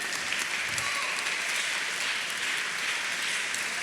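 A congregation at a church Sunday school program claps together in a dense, steady round of applause that holds evenly throughout.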